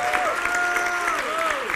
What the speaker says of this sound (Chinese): 哎，掌声一下啦！